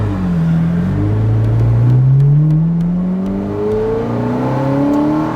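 A Ferrari F430 Coupe engine revs steadily while driving, heard loud and close from inside the cabin. The pitch keeps climbing as the car accelerates through the gears, with no talking.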